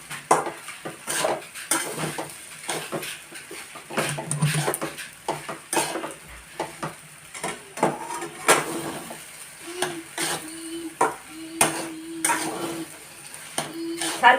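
A utensil stirs sabudana khichdi with peanuts and chopped green chili in a pan, producing repeated scraping clatters and clinks in an irregular rhythm, close and moderately loud, with no talking.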